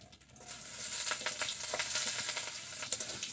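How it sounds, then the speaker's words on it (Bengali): Cumin, black cumin and chopped green chillies frying in a little oil, a soft steady sizzle with faint crackles and pops, fairly quiet and close, without voices. "আমার সব কিছু ভাজা হয়ে আসছে"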